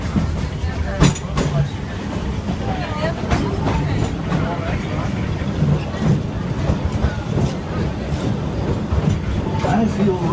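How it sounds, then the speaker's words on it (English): Runaway mine train on Big Thunder Mountain Railroad at Magic Kingdom, Walt Disney World, rumbling and clattering on its track amid steady park crowd noise, with chatter throughout. "Keep your eyes peeled for the runaway mine trains, Big Thunder Mountain Railroad."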